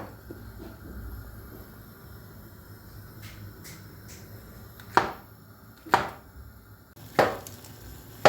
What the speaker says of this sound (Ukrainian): Нарізаємо по печерець.